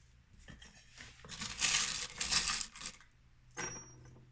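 Small divination charms are cast and tumble onto a surface, making a quiet cluster of clinking, rattling impacts that builds, trails off, and returns with a brief final clatter.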